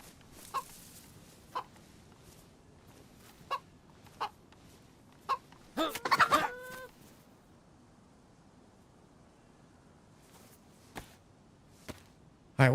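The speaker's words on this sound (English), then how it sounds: "Another chicken." A chicken clucking in the video game DayZ, a series of single short clucks spaced a second or two apart with a louder squawking burst in the middle, fairly near, no voices.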